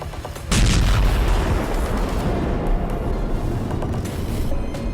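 A sudden loud blast gives way to a heavy, sustained roaring rumble that fills the clip without letting up.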